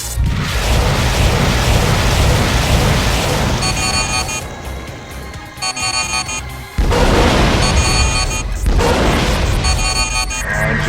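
Eos warship firing a volley in the space combat game Freespace 2: dense, loud booming bursts and crashes stacked over a rumbling low roar, with a sharp renewed blast near the end.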